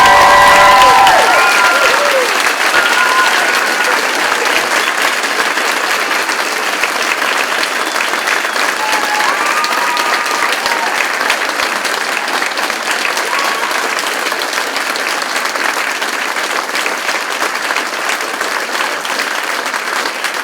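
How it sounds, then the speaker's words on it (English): Loud, sustained applause from a large convocation audience fills the hall without pause, dense and even throughout, with a few faint voices at the very start. "can we have a final loud round of applause?"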